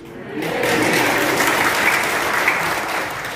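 Audience applause at a classroom action research dissemination event for primary and junior high school teachers in Kupang, with a steady wash of clapping swelling in after a quiet start and holding throughout at moderate loudness.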